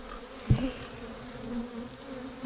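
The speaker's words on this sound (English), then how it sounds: "there's a good number of bees on here." Honey bees on a hive frame make a steady close buzz with a low droning hum. Two brief knocks cut through the buzzing, one near the start and one at the end.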